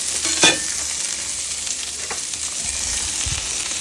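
An onion frying in a pan on a turned-down stove, giving a steady close sizzle throughout with a brief stirring clatter near the start and a few soft knocks later.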